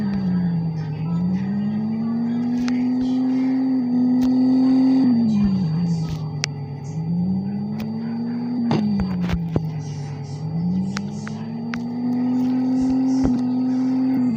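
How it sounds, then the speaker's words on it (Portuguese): A car engine revving hard in second gear, a steady droning note rising and falling in repeated sweeps, with sharp pops and crackles breaking through near the end of each rev. "Vou abrir de segunda. Vou ver qual marcha pipoca mais."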